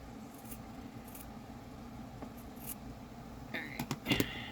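Scissors cut through material for a stitched journal page, with a few quick snips bunched near the end after soft rustling, close up and quiet.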